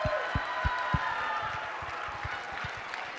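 Audience at a live school fine arts week concert clapping and cheering after a song, dense applause with sharp thumps near the microphone, fading slightly over a few seconds.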